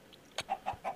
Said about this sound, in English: And now we can get rid of the nether quartz chicken.